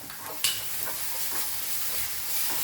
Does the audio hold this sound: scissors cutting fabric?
no